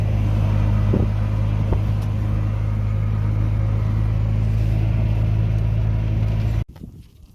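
An old vehicle, back in harvest work after more than two years standing idle, drives with a steady, loud, close engine rumble and drone that cuts off abruptly near the end.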